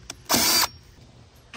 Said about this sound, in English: you just drill this ever so slightly larger. I just grabbed a 5/16 bit here.